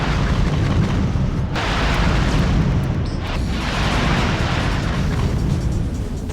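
Drek's giant mech explodes in Ratchet & Clank, a loud, sustained roaring blast with rumbling booms and crackling debris that stays dense and heavy throughout.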